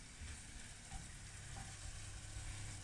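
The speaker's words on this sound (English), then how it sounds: "So I have my onions braising" Onions braising in a pan for a Durban baked beans curry: a faint, steady sizzle and hiss close by, continuous for a few seconds with no talk.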